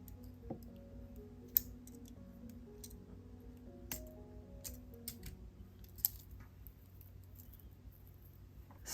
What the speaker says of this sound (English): Snip off the excess.